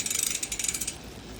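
A bicycle rear derailleur shifts gears with a quick run of small metallic clicks and ticks, close and fairly quiet, fading into a soft freewheel whir.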